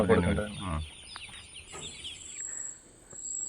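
Chicks on a chicken and pig farm peep in a busy cluster of thin, high chirps, with a voice talking briefly at the start and faint insect-like buzzing behind.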